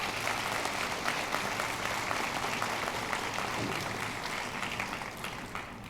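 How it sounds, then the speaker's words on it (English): Commencement ceremony crowd applauding in gratitude to staff, a continuous, fairly distant wash of clapping in a large reverberant hall, steady throughout with slight fading at the end. "I want us to give them a round of applause as a symbol of our gratitude"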